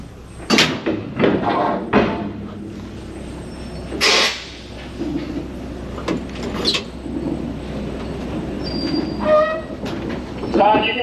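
A heritage trolley car, number 5106, rolls along rails at a trolley museum's winter event, with wheel rumble, clanks and squeals building as it moves, plus a brief horn-like tone; people talk faintly in the background.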